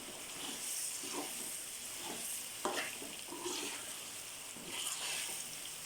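A spoon stirs semolina for makhandi halwa in a pan, making soft scraping strokes at irregular intervals over a steady low sizzle, close and fairly quiet.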